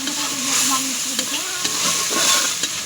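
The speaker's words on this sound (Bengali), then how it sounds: "মশলাটা ভালো করে কষিয়ে নেব।" Spice paste sizzles and fries steadily in a hot pan for a Bengali sweet pumpkin dish, a constant loud crackling hiss with faint stirring scrapes and no talk.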